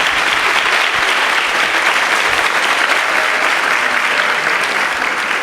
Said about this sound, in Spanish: Da un fuerte aplauso, gracias.